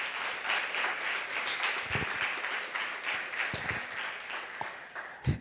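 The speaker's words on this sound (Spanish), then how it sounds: "Damos un aplauso a Jesucristo." Church congregation applauding at a Tuesday service, a soft, fairly distant patter of many hands lasting a few seconds with a couple of louder nearby claps.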